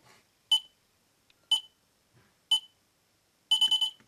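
Short electronic beeps from a type 4 radio fire alarm entering configuration mode, one each second for three counts, then a quick run of five rapid beeps; clear and isolated in silence.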